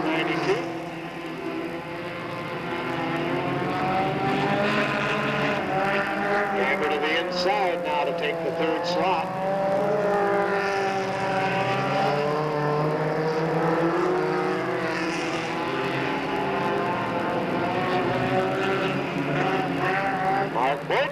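Stock cars racing at Delta Speedway, a steady loud roar of several engines with pitch rising and falling as cars pass, continuous under a race announcer's commentary throughout.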